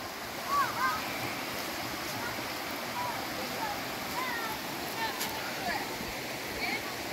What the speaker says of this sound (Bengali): নিচে ঝর্ণা বয়ে যাচ্ছে,